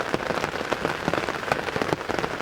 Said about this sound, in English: Still got a pretty good amount of rain coming down, as you can hear